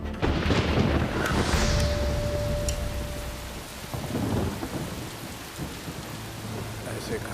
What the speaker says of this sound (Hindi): उस दिन जोर की बारिश हो रही थी।